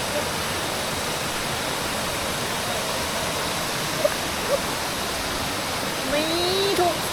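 Steady, full-bodied roar of a waterfall in a Thai national park fills the scene continuously, with a few faint brief sounds rising briefly above it near the end.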